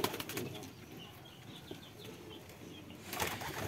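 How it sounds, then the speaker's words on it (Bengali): Two young wild pigeon chicks in a loft, with a soft rustle and flutter of wings close by, faint bird sounds over low background noise, and a brief louder flap at the end. "আমার সামনে দুইটা কবুতরের বাচ্চা দেখতে পাচ্ছেন। এটা হলো বুনো কবুতরের বাচ্চা।"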